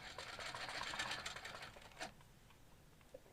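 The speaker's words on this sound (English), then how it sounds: "move it while the machine's running" A quilting sewing machine stitches with a clamshell ruler, its rapid needle chatter running steadily and fairly close for about two seconds before stopping abruptly, leaving a quiet background.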